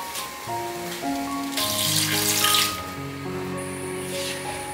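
Curry-seasoned food is stir-fried over medium-low heat after water has been added to the pan, with a steady close sizzle and watery bubbling and short rising hisses. No one speaks.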